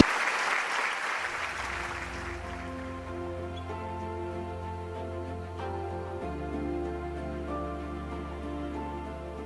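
Audience applause welcomes a singer onto the stage at a Korean peace festival, a dense crowd clapping continuously while a sustained musical backing starts beneath it.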